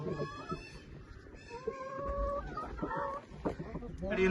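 An Aseel hen clucks and calls repeatedly nearby, with other fowl sounds and some background voices mixed in.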